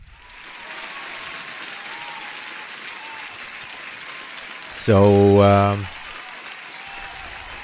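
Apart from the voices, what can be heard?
applause sound effect on a livestream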